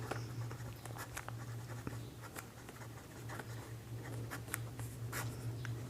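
A pen scratches steadily across paper while a Class 10 maths solution is worked out, the close, continuous writing strokes running alone over a low steady hum, with no talking.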